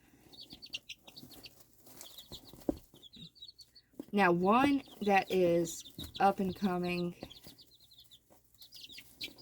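Chickens and a rooster cluck and call nearby in a backyard flock, their calls rising between and under a person's talking.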